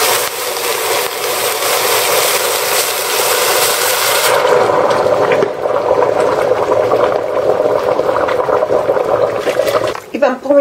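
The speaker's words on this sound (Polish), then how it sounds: "I zalewam teraz wodą" Water pours steadily into a pot of pork knuckle with sauerkraut, garlic and bay leaf, a rushing, hissing splash that softens partway through, then a few clinks at the end.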